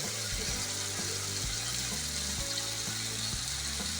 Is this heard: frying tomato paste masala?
yes